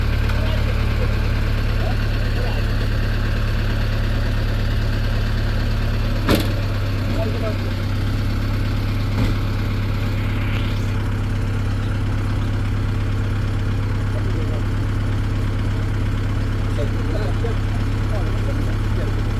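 A truck engine idles steadily while the vehicle fails to climb a hill, its axle broken on the slope. The low, constant rumble fills the whole stretch, with a couple of faint knocks and talk over it.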